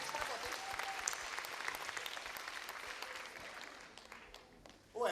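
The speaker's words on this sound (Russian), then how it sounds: "Браво, аплодисменты вам." A concert hall audience at a Chuvash music festival evening applauds warmly, a dense, even wash of clapping filling the room before a brief louder burst at the very end.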